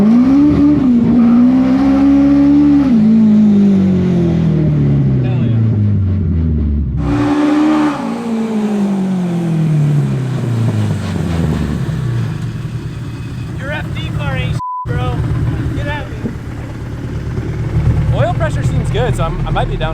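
A Nissan S13 with a high-compression K-series engine revs hard and pulls through two rising, loud engine sweeps, with a brief cut between shifts and tire noise, while people talk over it.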